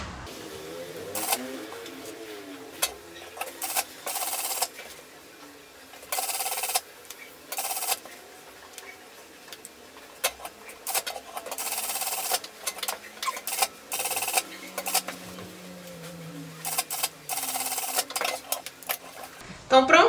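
A sewing machine stitches down the pleats on a skirt in short, rapid bursts, close and clattery, broken by pauses in which someone speaks.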